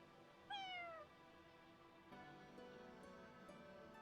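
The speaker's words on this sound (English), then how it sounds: "Cat." A cat in the video game Fire Emblem Engage gives a single clear meow, rising then sliding down, over a steady musical game background that shifts midway.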